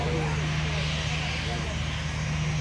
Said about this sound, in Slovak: chcel upriamiť pozornosť návštevníkov na práve rolujúce lietadlo